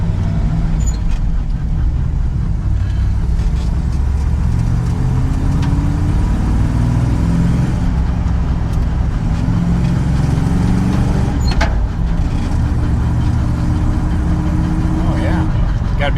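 A 1969 GMC truck engine drives with a loud, steady low rumble and shifting tones of engine and road noise, while a voice talks intermittently over it.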